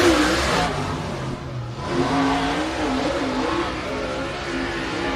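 Race car at Pike County Speedway accelerating hard toward the flag stand during the Jambalaya 100, a loud engine roar rising and shifting in pitch as it passes near.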